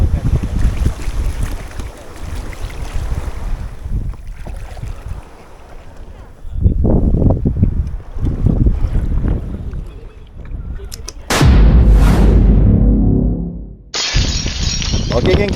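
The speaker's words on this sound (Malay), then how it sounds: "Nampaknya angin daripada darat ni agak laju geng agak padu juga" Strong wind from the land buffets the microphone during kayak fishing, coming in gusty bursts of loud rumbling noise with splashes and bumps of the kayak and brief voices.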